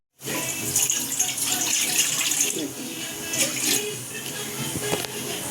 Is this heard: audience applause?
no